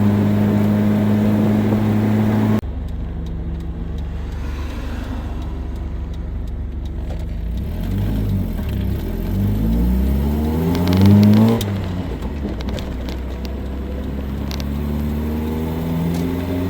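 A Volvo car engine running on only one fuel pump holds a steady drone, then revs and accelerates strongly, its pitch rising and falling through gear changes before settling back to a continuous hum, close and loud with no talk.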